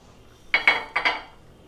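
Dijon mustard stirred into mushroom stroganoff in a pan, a quick set of four close, light metallic clinks of a utensil against the pan, with no talking.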